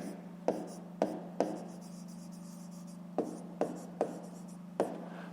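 Pen strokes scratching out numbers by hand on paper during a fifth-grade maths exercise, a series of short scribbles with sharp onsets recurring every half second to second over a steady low hum.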